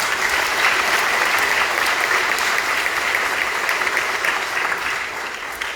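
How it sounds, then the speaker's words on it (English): A large audience claps steadily at an awards event, a dense, continuous burst of applause that holds evenly before tapering slightly at the end, with no voices over it. "Another round of applause."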